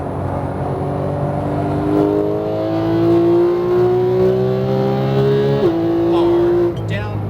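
A GT3 race car engine in a racing video game at Las Vegas climbs steadily in pitch under acceleration, loud and continuous, then drops sharply on a gear change near the end while a voice coaches over it.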